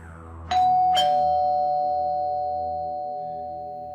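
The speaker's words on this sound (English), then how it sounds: "Emma rings the doorbell," A two-tone doorbell chimes once, a bright ding followed by a lower dong, each note ringing on and slowly decaying over a quiet room background.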